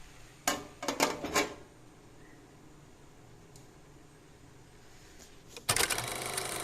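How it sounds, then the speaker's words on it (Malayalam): A lid clatters onto a cooking pot of spiced beans being stir-fried for a Kerala-style mezhukkupuratti, a few sharp metallic knocks close by in a quiet kitchen, followed later by another burst of clanking. "ഇനി അടപ്പ് വെച്ച് അടച്ച് വേവിച്ചെടുക്കാം."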